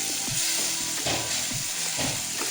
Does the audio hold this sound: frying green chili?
yes